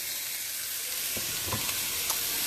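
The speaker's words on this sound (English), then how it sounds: "that's my onions and my garlic in there. I always put those in there first. Just let those kind of saute a bit" Chopped onions and garlic sauteing in a pan for a vegetarian pasta, giving a steady, soft hiss of frying. A few faint stirring scrapes come through near the end, and nobody speaks.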